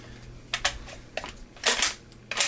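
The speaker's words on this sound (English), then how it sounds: "slide the bolt back in" A CZ 452 Scout .22 LR bolt-action rifle bolt slides back into place with a few short metallic clicks and scrapes, close and moderately loud, with no talking.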